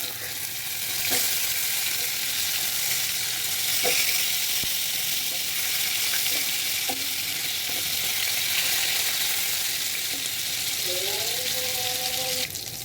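Fish frying in a hot pan, a loud steady sizzle throughout with occasional clinks and scrapes of turning the pieces, no voice over it.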